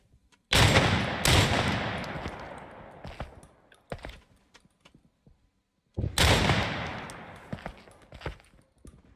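Two loud shotgun blasts in a first-person shooter game ring out a few seconds apart, each followed by a decaying boom, with clicks and faint handling sounds between them.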